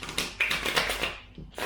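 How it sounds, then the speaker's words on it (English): A deck of playing cards gets a riffle shuffle, heard as a close, crisp ripple of rapid paper flicks in short bursts with a brief pause near the end. "So a riffle shuffle is great"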